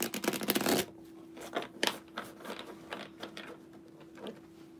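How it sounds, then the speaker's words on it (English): A deck of cards is shuffled with a dense burst of riffling flutter, followed by scattered softer shuffles and taps, close up and fairly quiet. "As I shuffle."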